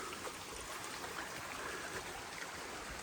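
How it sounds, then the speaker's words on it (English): A small brook in a wooded Victorian-style park flows with a steady, soft broadband rush and trickle, faint and continuous with no voices. "And another cute little brook here."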